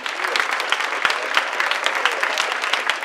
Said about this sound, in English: Students of the Project Success program found themselves surrounded by family, friends, and mentors as the room echoed with applause.